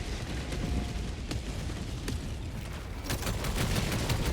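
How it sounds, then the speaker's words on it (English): Orbital 120mm artillery barrage in Helldivers 2, a dense rumble of overlapping explosions and booms that grows into a rapid cluster of sharp blasts toward the end, loud and continuous with no speech. "When in doubt, throw more artillery."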